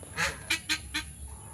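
Pet turkeys and chickens call out, several short honking cries in a quick uneven series, fairly close over a faint steady hum.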